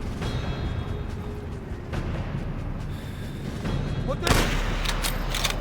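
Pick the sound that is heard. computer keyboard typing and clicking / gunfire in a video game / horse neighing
gunfire in a video game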